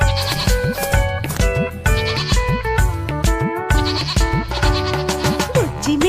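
A goat bleats repeatedly in a sung children's rhyme, its rhythmic, wavering cries set over a bright musical accompaniment.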